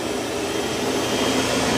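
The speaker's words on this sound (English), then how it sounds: "the Max V Ultra is mopping and vacuuming at the same time" A Roborock S8 MaxV Ultra robot vacuum mopping and vacuuming at once, giving a loud, steady whirring roar that holds constant throughout, heard close with no talking.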